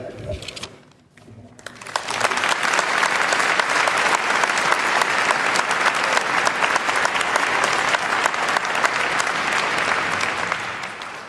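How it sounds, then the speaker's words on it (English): Sustained audience applause at the close of a debate panel, rising after a brief pause into dense, steady clapping from a large crowd that continues evenly to the end. "I'd ask you to continue your applause for a moment more for the panel"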